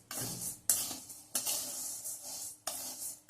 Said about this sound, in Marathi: तांदूळ सुद्धा सतत हलवत आपण भाजायचा आहे.